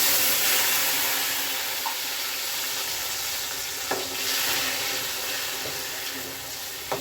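Tomatoes frying in a hot pan for a mushroom kurma give off a dense, steady sizzle, with a few sharp clicks of stirring scattered through it. No one speaks.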